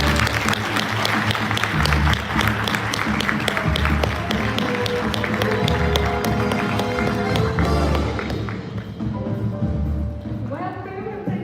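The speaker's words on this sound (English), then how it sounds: "Please, let's give a round of applause to Anissa Helou." Steady audience applause at a live talk event in Abu Dhabi, sustained clapping over a music bed that fades near the end, with no talk over it.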